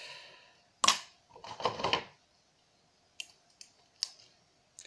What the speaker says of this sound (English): Just break off these connectors and such.